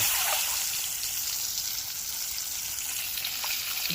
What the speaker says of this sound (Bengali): এক এক করে এর মধ্যে দিয়ে দেবো তেলের মধ্যে আওয়াজ করে